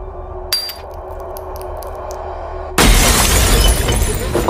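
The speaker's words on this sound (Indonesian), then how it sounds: "tiba-tiba botol wine tersebut pecah dengan sendirinya" A wine bottle shatters suddenly in a horror film scene, a loud burst of breaking glass that cuts through a quiet, tense backdrop with faint clinks before it.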